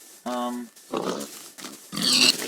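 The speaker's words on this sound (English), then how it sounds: "That is a lot of pigs." Pigs grunting and oinking in a crowded group in a Minecraft-style game world, three short separate bursts of snorting calls, fairly close and clear.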